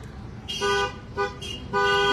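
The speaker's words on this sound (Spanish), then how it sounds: "Hay que pitarle porque llevamos novios." A car horn honks in a wedding procession in Valparaíso, Zacatecas: three loud, bright toots, a short one, a brief middle blast and a longer final one, over a low steady road rumble.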